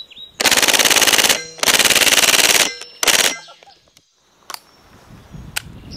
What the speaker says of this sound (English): There, now it's ready to fire.